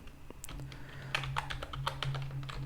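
A prompt typed on a computer keyboard, quiet rapid key clicks in uneven bursts over a low steady hum, no one speaking.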